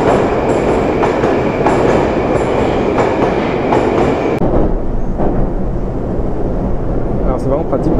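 Moscow metro train in motion, a loud continuous rumble and rattle of wheels on track heard from inside the car, with a voice talking over it.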